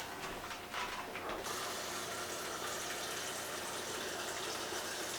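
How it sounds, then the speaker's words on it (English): A refrigerator water dispenser pours into an empty bottle, a steady close rushing stream that brightens in tone after the first second and continues unbroken with no voices. "It's the water thing on the fridge. Which is apparently filling up from an empty bottle."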